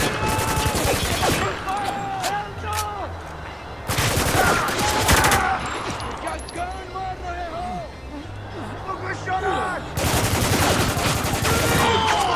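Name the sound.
gunfire in the video game Spec Ops: The Line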